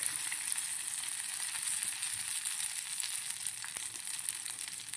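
Garlic cloves and curry leaves sizzling in hot oil for a tempering, a steady, fairly quiet crackling hiss throughout with no talking.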